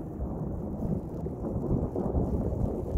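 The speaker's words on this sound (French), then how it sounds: "il y a de l'orage, c'est pas prêt de s'arrêter" A heavy thunderstorm with continuous pouring rain and low rumbling thunder rolling underneath, dense and steady throughout, in Athens.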